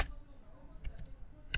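Light typing on a computer keyboard while entering project-planning text, a few soft scattered keystrokes in a quiet room with faint background noise.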